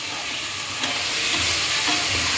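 Tomatoes fry in a pan for a chicken gravy, giving a steady, close, bright sizzle with faint stirring scrapes and no voices.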